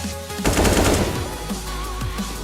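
Automatic rifle fire in a professional Counter-Strike esports match at IEM Sydney 2018: a sustained rapid burst of shots spraying down enemies, loud and close, trailing into scattered reports.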